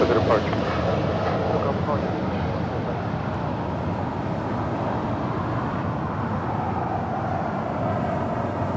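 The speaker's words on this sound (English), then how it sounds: "Lufthansa 457 Heavy, setting for the departure." A Lufthansa heavy jet airliner departing LAX gives a loud, steady, broadband engine roar that holds without a break for the whole stretch.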